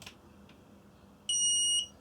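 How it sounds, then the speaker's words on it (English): Power-up beep from a Pioneer amplifier fitted with an Arduino Nano motorized volume control: one steady electronic tone that starts clearly and holds for about half a second over quiet room hiss, following a faint click. "And a power up beep as well."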